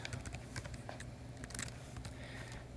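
Quiet keystrokes tapped on a computer keyboard, a quick irregular patter of clicks close by over a steady low hum.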